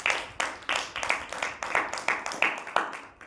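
A church congregation clapping hands together in a steady, rhythmic beat, about ten claps per few seconds, moderately loud and unison, with no voices over it.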